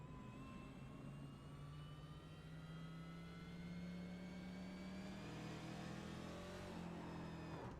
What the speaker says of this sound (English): he stamps on the throttle as Nick Simpson goes by and destroys his race car